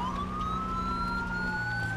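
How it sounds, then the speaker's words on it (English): Federal Signal Smart Siren on a sheriff's police vehicle in the video game GTA 5, a loud continuous wailing tone sweeping steadily upward, heard alone without talk. "this is the Federal Signal Smart Siren"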